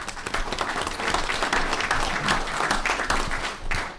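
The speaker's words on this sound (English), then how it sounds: "I think Bill ought to get another round of applause" Applause rings out at a committee meeting, a room of people clapping steadily and fairly loudly for about four seconds, dense and continuous with a brief dip near the end.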